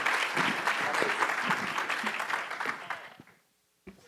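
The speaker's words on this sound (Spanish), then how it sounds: "Yo pido un fuerte aplauso para nuestros panelistas" A room full of people applauds steadily for panelists at a hydrogen technology conference, the clapping tapering off and stopping near the end, followed by a single thump.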